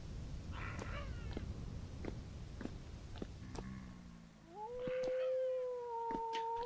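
A hungry cat in the modded survival game Vintage Story meows repeatedly, short calls followed by a longer drawn-out yowl, close and clear over a steady low ambient background.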